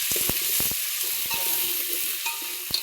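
Green chillies and onion frying in oil, a continuous hiss with several sharp knocks of a spoon stirring against the pan, fairly close and fairly quiet.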